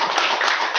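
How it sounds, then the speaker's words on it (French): A short burst of clapping during a classroom lesson, dense and close, lasting under a second. "on l'applaudit, hein?"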